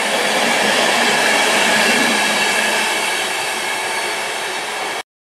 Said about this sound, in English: class 90 just been on this train, absolutely superb